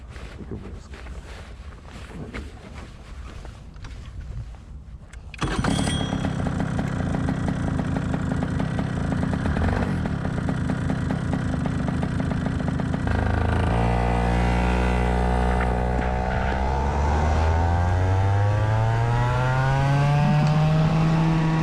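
A go-kart engine idles quietly, then roars loudly to life and revs up steadily as the kart pulls out onto a race track for its first warm-up lap, the pitch climbing smoothly toward the end.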